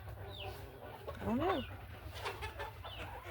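Hens in a farm coop on a freezing 9°F day give a short rising squawk and a few scattered clucks, fairly close, with a person speaking briefly alongside.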